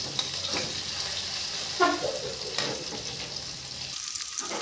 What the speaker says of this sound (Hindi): सेथिरे काटी रखिथिबा भेंडी गुड़ी को पकई भाजी नेबा